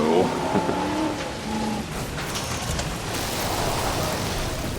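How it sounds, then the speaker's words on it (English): Rain in a dinosaur park video game set on Isla Nublar gives a broad, steady hiss, with a voice talking briefly at the start before the rainfall carries on alone at moderate loudness. "Then it starts raining and your traction with your vehicle goes to 0."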